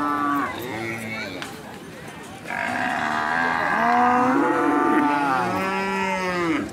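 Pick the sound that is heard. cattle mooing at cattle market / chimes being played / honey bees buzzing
cattle mooing at cattle market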